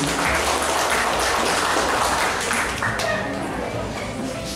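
Crowd clapping at a government launch event in Merauke, a broad continuous patter of many hands that runs throughout and fades slightly toward the end, with some murmuring.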